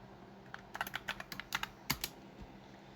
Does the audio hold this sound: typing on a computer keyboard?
yes